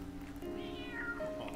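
A cat meows in the Final Fantasy XIII-2 video game, a single faint, drawn-out meow with a rising and falling pitch over a steady low hum, with no talking.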